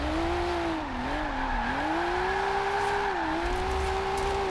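A drift car in Forza Horizon 4, played on a Logitech G920 wheel, holds a long, loud tire squeal as it slides, with a steady engine drone under the screech and the pitch rising and dipping through the drift.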